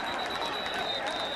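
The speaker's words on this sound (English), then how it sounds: "we happen to be seated on the Pitt side, and we're applauding that call" Pitt fans in the stands at a college football bowl game against Bowling Green clap and cheer after a holding penalty call, a dense, steady wash of crowd applause and noise filling the stadium.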